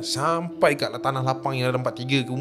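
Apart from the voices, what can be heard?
None of the usual background noises is heard.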